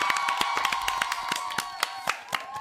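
A small studio audience gives a short burst of scattered hand clapping during a radio show, the claps crisp and close with a few louder individual slaps, and no one speaking.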